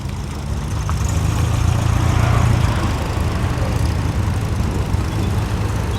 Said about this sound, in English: Lovely V8 burble.